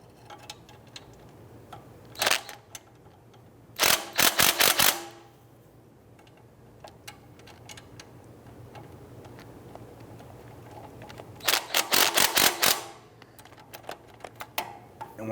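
Ratchet wrench tightening exhaust manifold flange nuts on a 1999–2004 Jeep Grand Cherokee, heard as two brief bursts of rapid metallic clicking near the start and one near the end, close, with quiet stretches between and no speech.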